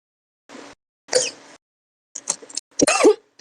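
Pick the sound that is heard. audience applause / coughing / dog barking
coughing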